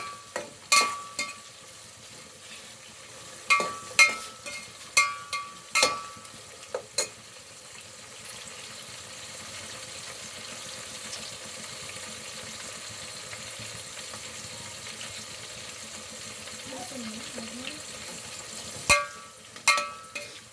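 Biryani ingredients roasting in hot oil in a home kitchen, a faint steady sizzle with intermittent clicks and scraping stirs of a spoon against the pan, clustered early and again near the end.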